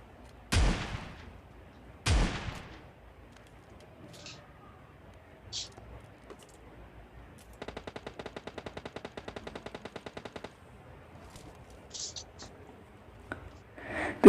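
PUBG Mobile gunfire: two sharp loud single shots early on, then a rapid sustained burst of automatic fire lasting about three seconds, with scattered quieter game sounds between and another shot at the end.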